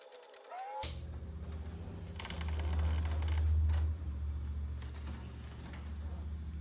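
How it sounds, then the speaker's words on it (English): A printer runs for several seconds, a steady mechanical whirring with a louder rumbling stretch in the middle, fairly close and without speech. "now we have our whole sheet printed out"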